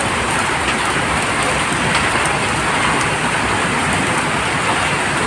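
Heavy rain pours down steadily in a flooding downpour, a dense, loud, unbroken hiss of drops striking surfaces with no voices.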